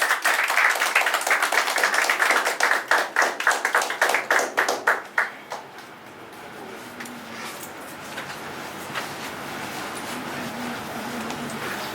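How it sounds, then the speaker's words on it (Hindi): Audience applause at a Hindi patriotic stage drama, many hands clapping loudly and steadily as a guest is welcomed for a flag-hoisting, then fading after about five seconds into quieter room sound with faint voices. "आप लोग जोरदार ताली से उनका स्वागत कीजिए"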